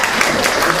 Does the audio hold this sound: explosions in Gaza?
no